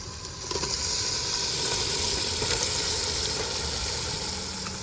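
Vegetables hit a pan of browned spices and fry with a loud, steady, close sizzle that hisses on without a break and with no voices.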